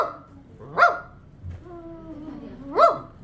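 A dog gives two short, sharp barks about two seconds apart, fairly close, with faint whining or yelping between them.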